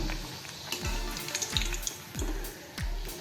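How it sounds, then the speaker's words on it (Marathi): Matar puri, a pea-stuffed puri, deep-fries in hot oil in a kadhai with a soft, steady sizzle and faint crackles. Low rhythmic thumps recur about every half second beneath it, and nobody speaks. "आता ह्या तळून घेऊया कढईमध्ये तेल तापलेलं आहे पुरी सोडलेली आहे आणि छान अशी खमंग अशी आपण ही तळून घेऊया"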